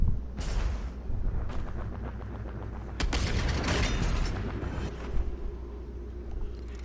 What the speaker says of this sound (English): it is a Meathook swing